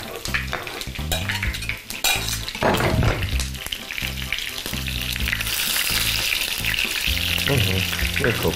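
Food fries in a pan on a home stove during cooking with garlic, giving a steady, close sizzle with occasional utensil clinks, mixed with background music throughout.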